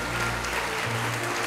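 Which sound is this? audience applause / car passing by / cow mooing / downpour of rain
audience applause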